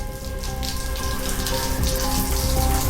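Shower water runs in a steady, dense hiss and patter, close and continuous for a few seconds, with a faint tonal hum beneath it.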